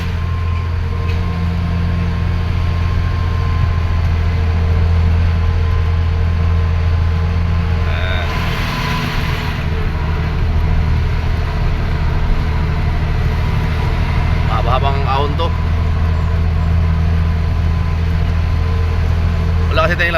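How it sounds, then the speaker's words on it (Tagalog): A loaded truck carrying two equipment loads grinds uphill on a provincial road, its engine a steady, loud drone with a constant low hum throughout and faint road noise on top. "malakas ang truck natin sa dalawang karga eh"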